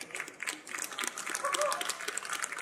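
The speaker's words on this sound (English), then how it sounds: "Thank you for the applause over here." Audience applause at an ITIL conference session, a soft, diffuse patter of many hands clapping at a distance, steady and fairly faint with some crowd murmur beneath.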